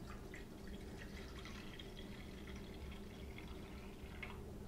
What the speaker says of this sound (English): So let me pour some water in the saucepan.